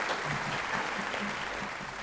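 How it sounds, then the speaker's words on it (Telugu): A studio audience claps together on cue at a mask reveal show, a steady, close burst of dense applause lasting the whole moment and tapering slightly at the end. "క్లాప్స్ కొట్టండి."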